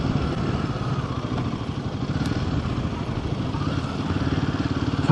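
Royal Enfield Himalayan 450 motorcycle being ridden, a steady close engine drone with a throbbing low rumble and wind noise holding even throughout, with no one talking.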